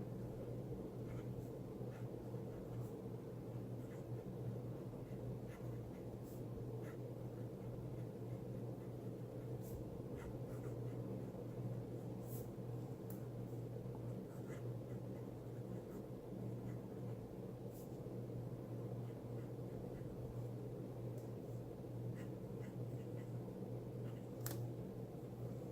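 Steady scratchy scraping of a Jinhao 159 fountain pen nib moving across paper, with faint ticks of strokes over a constant low hum, fairly quiet and close.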